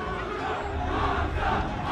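Crowd at a Super Smash Bros. Melee tournament, Genesis 5 in California, reacting after a stock is taken: a loud, mixed roar of many voices shouting and cheering at once for the full two seconds.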